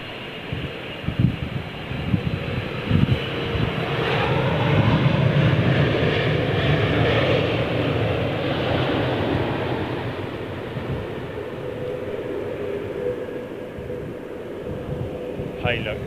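A jet aircraft taxiing at London Heathrow Airport produces a broad, steady rumble that swells and slowly fades, heard outdoors from some distance.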